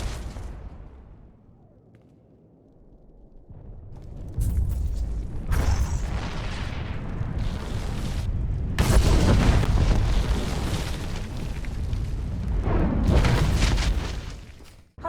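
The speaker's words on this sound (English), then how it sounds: "Set off the bomb" A bomb detonating in the video game Star Wars: The Old Republic, in a Corellia mission: loud, low booming blasts with rumbling debris that swell and sustain for several seconds, following a quieter stretch, with no talk.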